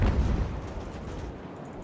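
Sailing-ship cannons firing hull shots in the Ultimate Admiral: Age of Sail naval battle video game, a deep rumbling boom that fades into a low, continuous roll of distant cannon fire.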